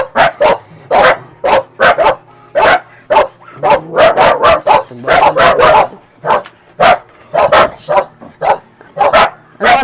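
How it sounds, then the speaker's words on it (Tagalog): A dog barks loudly and close by in rapid, repeated bursts, with a few higher yips mixed in, continuing without pause. "May aso na kayo dito."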